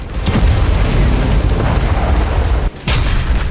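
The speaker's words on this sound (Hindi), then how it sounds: "ये बेरूत का वीडियो है, जहां इजरायली एयरफोर्स ने बारूद गिराकर एक इमारत को तबाह कर दिया" Blast from an Israeli air strike on a building in Beirut, a heavy rumbling boom that rolls on with low debris noise and ends in a short gap and a second burst.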